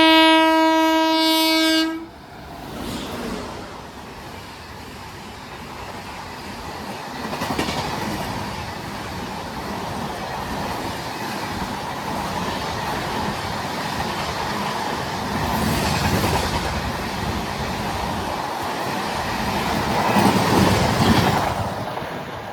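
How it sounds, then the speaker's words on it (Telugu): The 12649 Yesvantpur–Hazrat Nizamuddin Karnataka Sampark Kranti Express skips Kottapally station at high speed. A loud horn blast opens, then a long, roaring stream of wheel clatter and rushing carriages builds and continues close by. "12649 యశ్వంత్పూర్ హజరత్ నిజాముద్దీన్ కర్ణాటక సంపర్క్ క్రాంతి ఎక్స్ప్రెస్."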